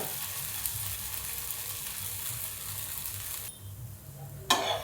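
Chibud melon pancake roasts on a hot pan with a continuous close frying sizzle that suddenly cuts off, followed by a brief clatter of the pan.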